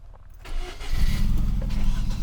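A broken, misfiring, low-power car on a French mountain road cranks and starts: a quiet, uneven lead-in, then the engine catches and settles into a loud, rough, throbbing idle, close by.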